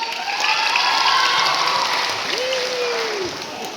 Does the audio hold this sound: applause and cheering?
yes